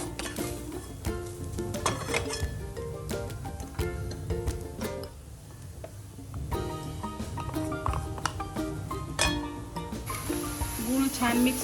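Grated coconut and jaggery are sautéed in a pan for modak filling, with steady sizzling and scraping, frequent sharp clinks of a utensil against metal, and music or other background sound running underneath.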